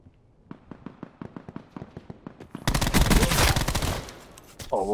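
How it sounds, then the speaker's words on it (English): Rapid bursts of automatic gunfire from a gun in a video game: a run of sharp, evenly spaced single shots, then a dense, loud volley, with a brief voice near the end. "Oh, what a shot. And that's why I like this gun."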